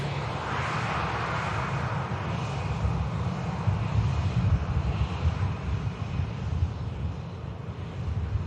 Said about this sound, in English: Next aircraft in, Scandinavian, inbound from Oslo.